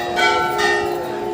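A Hindu temple bell rung during a religious discourse gathering, a single bright metallic strike whose ringing tone sustains and slowly fades, close and loud with no talking.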